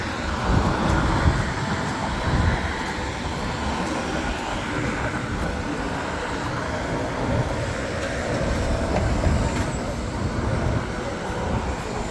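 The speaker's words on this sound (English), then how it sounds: "I see another subway up ahead." A steady low rumble with rolling mechanical rattle of a subway train running along rails nearby in the Bronx, continuous for the whole stretch with no voices.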